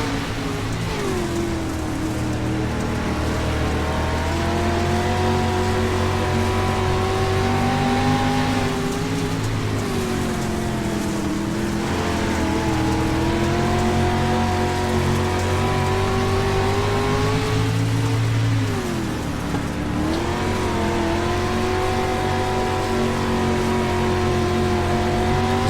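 Street stock race cars in the iRacing simulation run on a dirt oval, with a loud, continuous engine drone whose pitch climbs and dips as the cars accelerate and lift through the turns, sustained throughout with no voices.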